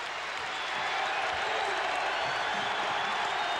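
A basketball arena crowd roars for the Iowa State Cyclones during a 1997 NCAA game against Baylor, a steady, distant-sounding wash of cheering and noise with no break.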